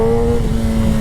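A modified 2017 Kawasaki ZX10R sport bike engine holds a steady, rough high-rpm rev, loud and close with a strong sustained tone throughout.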